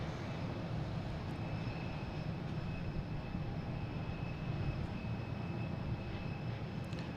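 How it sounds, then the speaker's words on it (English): An American Airlines jet arriving from Chicago at Boston Logan makes a faint, steady engine rumble and drone that stays even throughout with no talk over it. "There's American Airlines Flight 2278 coming in from Chicago."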